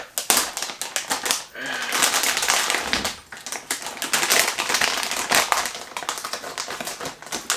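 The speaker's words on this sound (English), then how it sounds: "let's unbox or unpackage it now. So I'll get the good old sticker here." Unpackaging an RTX 3080 graphics card, with dense crinkling, tapping and peeling of a sticker off the box close up. The rustling and scraping carries on for several seconds with a few brief pauses.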